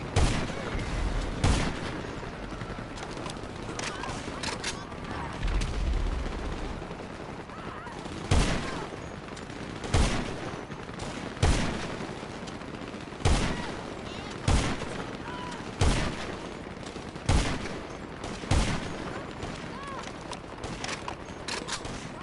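GTA Online gunfire: sharp single shots crack out at a steady, spaced rhythm, loud and close over ongoing ambient game noise, with a few overlapping bursts early on.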